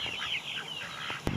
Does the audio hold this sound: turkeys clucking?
yes